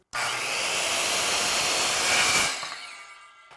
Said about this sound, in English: Then one more roll and one more cut will leave you with a nice clean end.